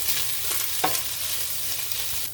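Chopped white onion and garlic sauté in a pan for chili, giving a steady, close frying sizzle with a stir or scrape near the middle and no talking.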